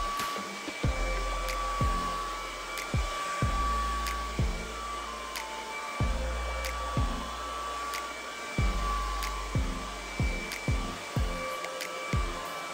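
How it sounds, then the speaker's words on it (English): A hair dryer blow-dries type 4 hair, running as a steady whine throughout, with repeated soft thumps and brief pauses as the airflow is moved through the hair. "There are different methods to blow drying."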